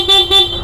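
Two short, loud horn beeps in quick succession, a nasal, buzzy tone from a small vehicle close by.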